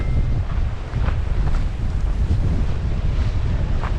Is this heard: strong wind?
yes